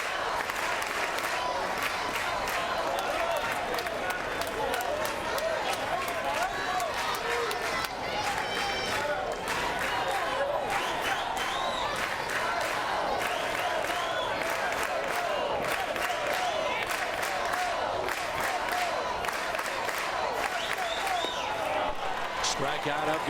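A college baseball crowd roars and claps in a dense, continuous wall of cheering that holds steady throughout, with commentators talking over it.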